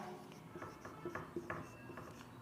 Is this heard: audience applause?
no